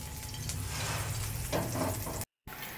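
Curry leaves and slit green chillies sizzling in hot oil for a Chettinad egg curry, a dense, steady crackling fry that runs continuously before a brief cut.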